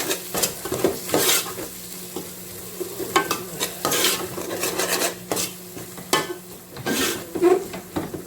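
A spoon stirs a cumin spice mixture in a cooking pot for chicken and potato curry, giving repeated scraping strokes and metallic clanks over a soft sizzle, in an uneven rhythm.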